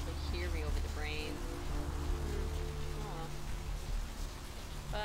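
Steady, dense rain falls across a night street in Santa Monica in the game Vampire: The Masquerade – Bloodlines, a loud unbroken hiss with someone talking over it.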